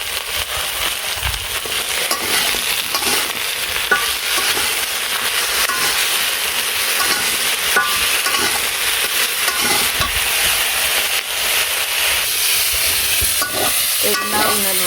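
Lentils or vegetables frying with salt and turmeric in a pan in a village kitchen, a steady loud sizzle filling the whole stretch with scattered crackles and the scrape of stirring.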